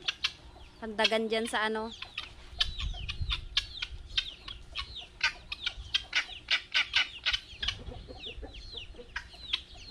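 Chickens cluck and a rooster calls near a backyard pen with young chicks, with a long crowing call early on followed by steady repeated clucks and chirps, while a person speaks briefly over them.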